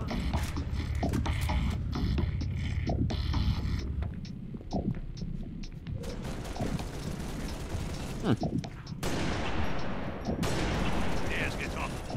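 Repeated bursts of gunfire in the video game Halo: Reach, single shots and rapid volleys, crack through a busy game soundscape with low rumbling, while a voice talks intermittently.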